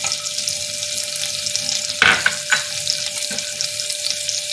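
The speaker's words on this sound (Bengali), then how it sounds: "বাটারটা গরম হচ্ছে, এখন আমি এর মধ্যে একটু রসুন কুচি দিয়ে দেবো।" Butter heats in a pan on the stove with chopped garlic starting to fry, giving a steady hiss with a few brief clatters of a spoon near the middle; no one speaks.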